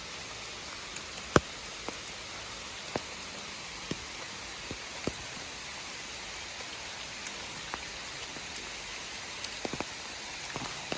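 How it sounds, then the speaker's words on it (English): Heavy rain pours down onto open water at Table Rock State Park in Pickens, South Carolina, a dense, even hiss with scattered sharper drop splashes throughout. "it is straight up pouring rain right now"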